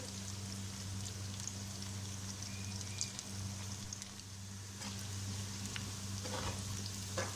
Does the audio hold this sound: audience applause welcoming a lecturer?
no